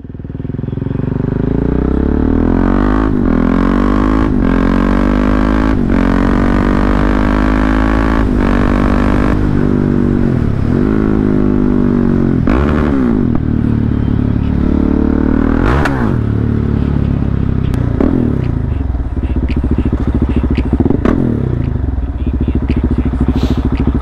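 A motorcycle engine roars loudly and continuously, revving up and down as it rides, with clattering road noise throughout.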